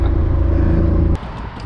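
A BMW E36 sedan with a welded differential, floored under hard acceleration: a loud, close engine roar holding steady for about a second, then dropping abruptly to a lower rumble.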